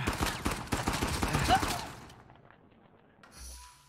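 Rapid bursts of gunfire from an Uncharted multiplayer match crackle densely for about two seconds, then thin out into a quieter tail with a brief late burst.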